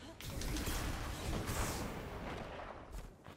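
Fusion rifle fire and other weapon blasts in Destiny 2 crackle and roar in a continuous, dense wash of energy shots and explosions, with a voice talking faintly under the combat.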